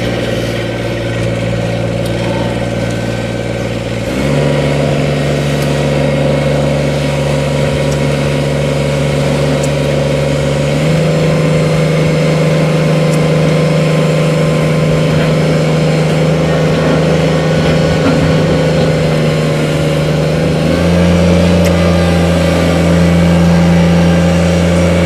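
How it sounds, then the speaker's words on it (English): A compact tractor's diesel engine runs steadily up close, a loud continuous drone with low rumbling tones that shift pitch in distinct steps as the engine speed changes, with no talking. "I'm going to fire this tractor up, we're going to run around."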